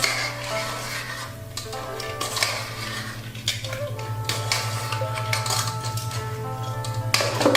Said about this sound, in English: we're going to take that and mix it all around in that sauce